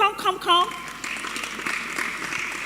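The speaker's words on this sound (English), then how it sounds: "I want you to welcome her with a resounding applause" A voice speaks briefly, then an audience at a bootcamp event breaks into continuous, moderately loud applause to welcome a colleague onto the stage.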